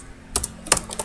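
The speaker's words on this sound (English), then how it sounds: "I'm typing, hold on." Keystrokes on a computer keyboard, a few quick separate clicks in two small clusters, close and clear with no talking.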